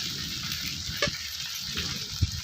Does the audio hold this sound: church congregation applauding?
no